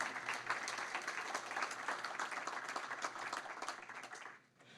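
An audience at a university lecture on the war in Afghanistan applauds the event organizers, a steady wash of many hands clapping, faint and distant, tapering off at the end.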